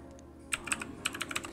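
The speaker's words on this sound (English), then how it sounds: "I'm typing sunny weather." Rapid keystrokes on a computer keyboard, a quick irregular run of close, crisp clicks after a short quiet pause, with no talking.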